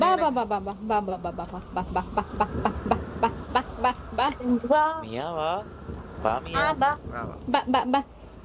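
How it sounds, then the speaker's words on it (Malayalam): Repeated clucking calls from a chicken, fairly close, mixed with people talking over and between the clucks. "കോഴിയാ"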